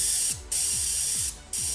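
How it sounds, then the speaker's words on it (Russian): High-voltage generator module of about 20,000 volts arcing, a loud continuous high-pitched hiss and buzz with two brief dropouts, close and alone. "20 тысяч вольт с минимальным током вполне реально получить такой высокочастотный звук"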